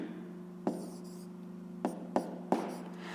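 A pen writing numbers by hand on paper during a fifth-grade math exercise gives a few faint, separate taps and scratches over a steady low hum.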